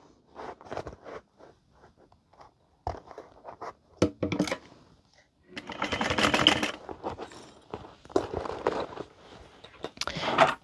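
A sewing machine stitches the second side of a Gabriella handbag through thick layers in bursts of mechanical whirring, broken by pauses, rustling and handling clatter between runs.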